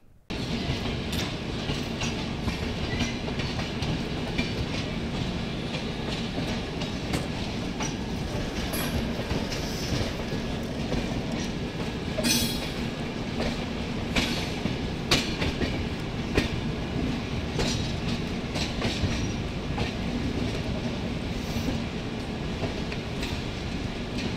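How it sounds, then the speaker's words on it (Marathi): The Saurashtra Mail passenger train rumbles steadily along after pulling out of a station, with continuous loud wheel roar, clickety-clack on the rails and occasional faint squeals, heard from on board without talk. "ही ट्रेन इथून डिपार्ट झालेली आहे"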